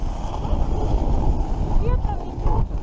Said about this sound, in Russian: Ветер нормальный.